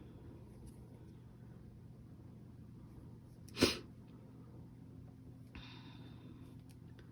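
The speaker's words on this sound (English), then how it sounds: "You gotta excuse my sniffling because I have indoor allergies" One sudden nasal burst, a sniffle or sneeze from someone with indoor allergies, rises briefly out of a quiet room hum, close to the microphone.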